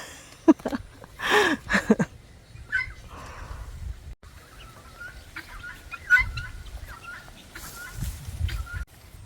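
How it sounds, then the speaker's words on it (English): Guinea fowl call in a garden among pumpkin plants and garden beds, giving scattered short clucking and harsh chattering calls at moderate distance over low outdoor rumble. "The guinea fowls are laying eggs and having their nest in the in the pumpkin, like in between the garden beds."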